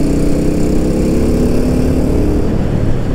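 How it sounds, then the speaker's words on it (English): BSA Goldstar 650 single-cylinder motorcycle engine runs steadily and loud and close, a dense, even low thump throughout with no talk over it. "It's just that engine noise. It's just so addictive."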